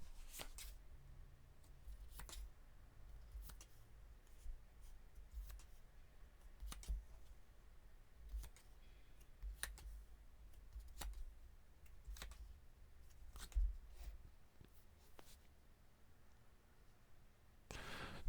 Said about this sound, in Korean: 제가 카드 뽑아볼게요